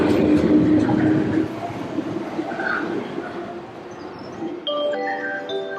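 A train ride in Osaka, Japan, near Imamiya station, gives a steady, close rolling rumble that eases slightly midway, and a few clear chime-like tones ring out near the end.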